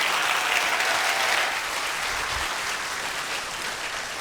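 A hall audience claps warmly to welcome physicist Kim Sang-wook onto the stage at a lecture following a Korean traditional music performance, a dense, even wash of applause that eases slightly toward the end.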